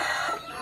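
A hen on a Vietnamese chicken farm gives a short, close burst of clucking, loud and unaccompanied by any voices.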